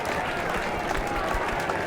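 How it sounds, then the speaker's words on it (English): Applause in the video game The Lion's Song, a steady, dense patter of clapping from a small group heard close and without a break throughout. "I always give a round of applause at the end of my lecture."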